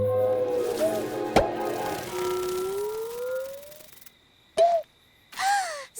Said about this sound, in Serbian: To je sova!